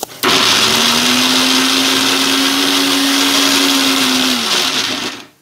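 A mixer grinder grinds sautéed onions for mushroom gravy, starting abruptly into a loud, steady whirring drone that holds for about four seconds before winding down.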